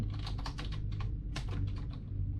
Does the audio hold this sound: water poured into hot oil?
no